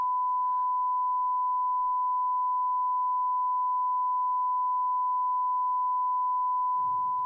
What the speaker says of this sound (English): we should have a nice pure tone when we listen to it